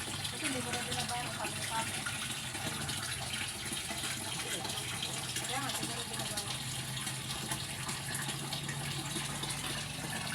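Continuous rush of water running from a water filter into a catfish tank, steady and fairly loud, with faint voices underneath.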